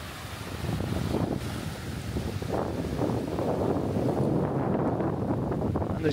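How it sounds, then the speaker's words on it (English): Wind buffets the microphone while surf rolls in on Sok Sam Beach, Koh Rong, Cambodia, a constant low roar with washing waves and no voices. "This is Sok Sam Beach, absolutely stunning"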